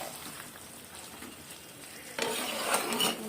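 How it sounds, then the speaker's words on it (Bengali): Boiled chickpea dal is poured into a pan of jackfruit and potato curry, a soft sizzle and stir first, then a louder burst of hissing and splashing as the dal goes in. "এবার ছোলার ডালটা দিয়ে দিলাম।"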